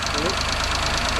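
A Japanese Hijet mini truck engine idles steadily after carburetor work, a continuous loud mechanical rumble with a faint rhythmic knock throughout the short stretch, with no voice over it.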